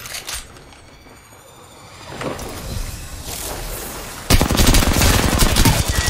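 Cannon fire in a shooter video game: a rapid, loud burst of repeated blasts erupts partway through after quieter game noise and continues to the end.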